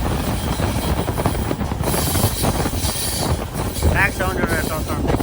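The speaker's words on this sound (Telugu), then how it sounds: "ట్రాక్ సౌండ్ చూడండి ఎట్లా వస్తుంది" Rolling rumble of an LHB-coach train running on track between Katpadi and Tirupati, heard from inside the carriage as a steady broadband roar with rhythmic wheel noise and faint squeals, with talk over it.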